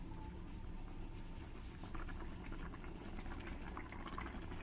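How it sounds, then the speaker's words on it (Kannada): Water boils in a pot on the stove for mango upma, a quiet, steady bubbling and simmering hiss close by, with no talking. "ನೀರೆಲ್ಲ ಚೆನ್ನಾಗಿ ಕುದೀತಾ ಇದೆ ನೋಡಿ."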